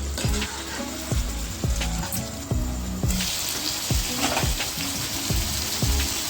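Raw prawns with spinach fry in a pan, a constant close sizzle broken by regular sharp scraping clicks of a spoon stirring against the pan, roughly one stroke per second.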